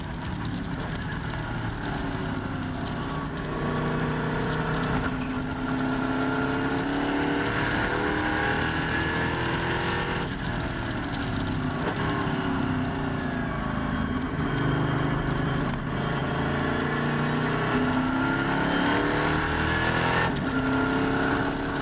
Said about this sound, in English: Let's enjoy the sounds of NASCAR.